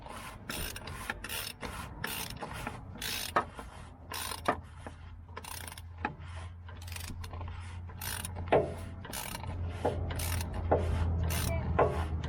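Socket ratchet clicking in repeated bursts while tightening a filter on a 6.4L Powerstroke diesel, close and crisp with a faint steady hum underneath.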